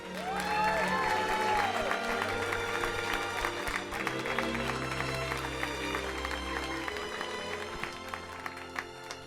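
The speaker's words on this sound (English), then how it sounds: "Let's give a big round of applause to Walt Disney." A crowd applauding and cheering at a comedy roast of Walt Disney, sustained clapping with whoops layered over music and some voices, holding steady before easing slightly toward the end.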